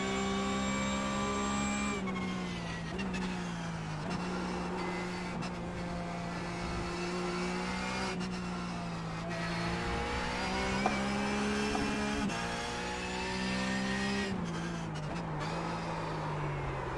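Porsche 911 GT3 Cup race car in the iRacing sim at Spa-Francorchamps, its engine droning loud and steady with rising and falling revs through gear changes, tyres faintly squealing under acceleration.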